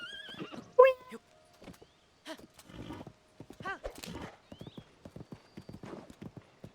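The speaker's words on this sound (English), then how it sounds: "Horse, there you are." Horse hooves clip-clop in the Zelda video game, with a loud neigh early on, followed by quieter, irregular hoof steps and other game sounds.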